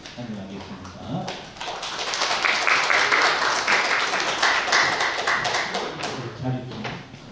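An audience at a church book-launch thanksgiving service and literary award ceremony applauds, a dense swell of clapping that builds and holds for several seconds between stretches of talking.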